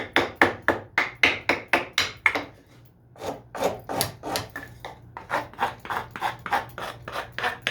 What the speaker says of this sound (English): That old file, that old rasp is about wore out